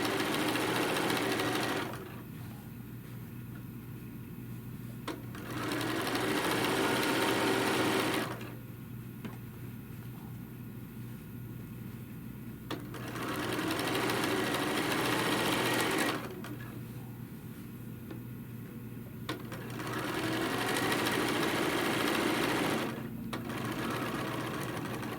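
Sewing machine top stitching along the pressed fold of a tote bag panel, its motor humming in three long steady runs separated by brief pauses, close and continuous, with no talking.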